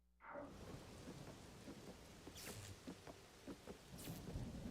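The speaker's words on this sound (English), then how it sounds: "yep, the lightning mechanic is still back." Thunder rumbles and rain pours in a storm scene from The Legend of Zelda: Tears of the Kingdom, with a sharp crack of lightning partway through and a steady wash of rainfall that holds throughout.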